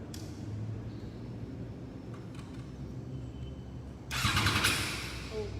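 A Triumph Trident 660 motorcycle on its exhaust idles low and steady nearby, then bursts into a louder, sharper rev near the end before easing back to idle.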